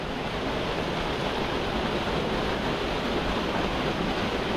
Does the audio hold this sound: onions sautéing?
no